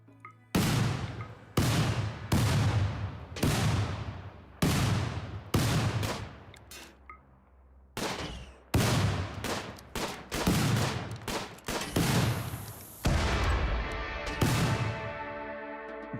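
Video game gunfire in a level with entirely shallow water: a series of loud, heavy shots with long ringing tails, spaced about a second apart, then a denser cluster of rapid shots toward the end.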